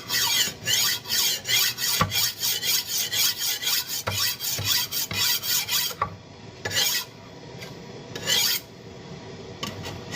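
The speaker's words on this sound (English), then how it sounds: "The problem with doing it like this is I'm only sharpening one side." A blade being sharpened on one side only, with rapid rhythmic rasping strokes in a steady run, then a few slower, separated scrapes; close and fairly loud.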